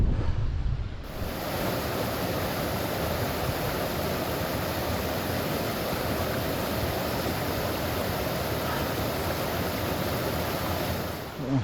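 A waterfall near Jacob's Ladder in the Grindsbrook and Kinder moorland area roars as a steady broad rush throughout, with some wind buffeting and no voices.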